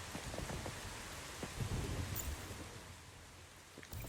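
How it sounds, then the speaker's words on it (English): Stormy weather in the video game Once Human: steady rain pours over a surface while low thunder rumbles beneath it, a dense wash of sound with no voices. "And the weather just turned stormy."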